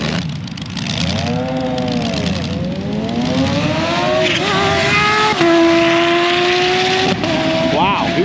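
A Kawasaki Ninja H2 SX SE motorcycle passes at top speed, its loud engine whine sweeping down in pitch as it goes by, then holding a steady high note, with voices talking over it.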